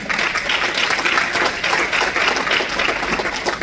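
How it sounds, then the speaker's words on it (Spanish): A church congregation gives a strong, continuous round of applause during a sermon, the clapping even and crowded from start to finish with no speech over it. "Dale un fuerte aplauso."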